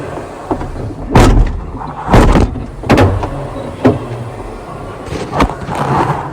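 A Fiat van door lock clunks repeatedly, about six loud close-up clicks and thumps at uneven intervals, with mechanical rattling between them.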